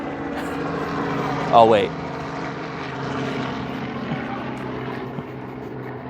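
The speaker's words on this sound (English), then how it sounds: "there's a helicopter going by right now." Helicopter passing overhead in a St. Petersburg, Florida neighborhood, a steady rotor drone throughout with a person speaking briefly over it.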